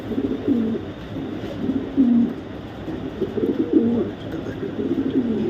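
Racing pigeons coo in a low, throaty, repeated rhythm, several birds overlapping close by over a steady background hum, with no talking.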